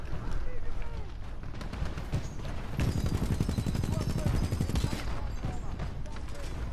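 Rapid, repeated weapon fire in the Titanfall video game, mech-combat shooting in quick close bursts that rattle on throughout, with a denser volley in the middle and someone talking over the shots.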